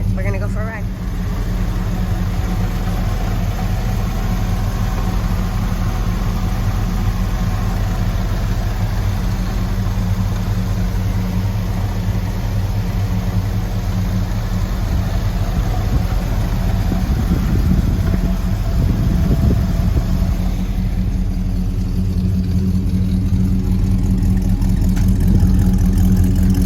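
1970 Buick Skylark engine running on a test drive, a loud, steady low rumble from inside the car that holds throughout, with a faint rise in revs partway through.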